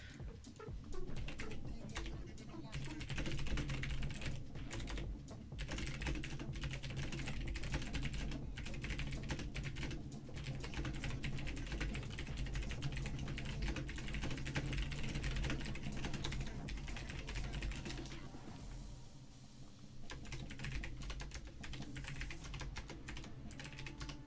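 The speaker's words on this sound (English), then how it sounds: "I'm sorry for typing so much so quickly. I'm just gonna take my hands off the keyboard now." Fast typing on a computer keyboard during a live stock market stream, a dense continuous patter of key clicks with a steady low hum underneath, close and fairly loud throughout.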